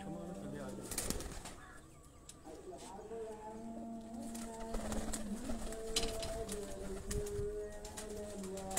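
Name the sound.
pigeons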